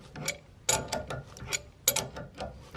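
A ratchet wrench clicks as it turns a hitch ball on a sideways-mounted trailer hitch, with several short bursts of rapid ratcheting separated by brief pauses, close and fairly quiet.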